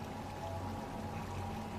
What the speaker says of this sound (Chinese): 这里有水声，水流湍急，